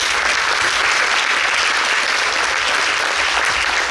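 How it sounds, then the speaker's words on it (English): An audience at Eesha's arangetram, a classical dance debut, applauds her dance with a steady, dense wash of clapping that holds evenly loud throughout without pause. "Now a big round of claps for Eesha, please."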